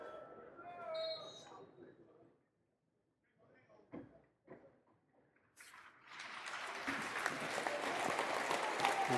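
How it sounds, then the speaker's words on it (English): A football crowd at a Millwall versus Leicester City match breaks from quiet into a rising round of applause, distant and building to a steady roar of clapping after a hushed, near-silent stretch. "It's been turned into a round of applause, rightly so."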